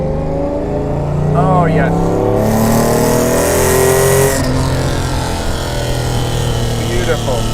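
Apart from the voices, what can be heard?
Mercedes-Benz 300 SL engine accelerating through bends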